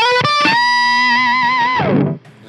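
A Pigtronix Disnortion pedal with its octave-fuzz stacked onto the overdrive, played on electric guitar: a thick, buzzy, harmonically rich sustained tone with a gliding upper octave, ringing for about two seconds before cutting off, alone and loud.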